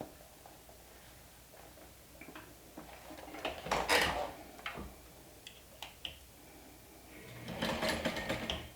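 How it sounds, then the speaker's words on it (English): A sewing machine stitches a bag dart with a 3/8-inch seam allowance, running in faint bursts and brief ticking stretches with quiet pauses between. "you're going to stitch this with 3/8 of an inch seam allowance."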